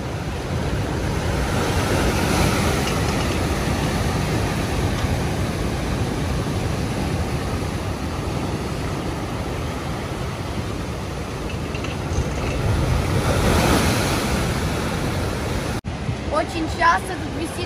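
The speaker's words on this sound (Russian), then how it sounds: "Специально оставила здесь шум волн, они просто огромные." Large Atlantic waves at Puerto de la Cruz, Tenerife, roll and crash on the rocky shore in a continuous roar, swelling to louder surges every few seconds, with no talk.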